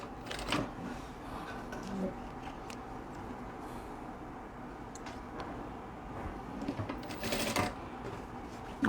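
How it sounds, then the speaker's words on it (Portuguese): A sewing machine stitches along the opposite side of a fabric piece for an economy quilt block, giving a steady, fairly quiet mechanical whir across the whole stretch, with a few louder bursts and clicks near the start and toward the end. "e aí nós vamos costurar esse outro lado oposto aqui"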